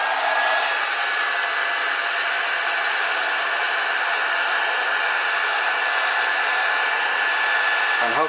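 Heat gun blowing steadily while heating a part on a Lambretta TS1 scooter, a constant loud airy whoosh with a faint whine that stops right at the end.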